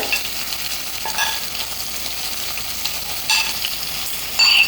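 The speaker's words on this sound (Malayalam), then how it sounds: "ഒന്ന് ചൂടായി വരുമ്പോൾ ഇതിലേക്ക് ഇഞ്ചി സവാള പച്ചമുളക്" Ginger, onion and green chilli sauté in hot oil for a semiya upma base, giving a steady close sizzle and crackle with a few louder spatters and stirring scrapes near the end.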